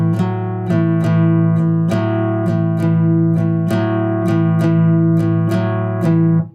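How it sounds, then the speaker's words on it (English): Blues shuffle on guitar, power chords struck in a steady swung eighth rhythm with sharp accents roughly twice a second, loud and close, with no talking. "I'm gonna play my shuffle eighths, and on beat 2 and 4"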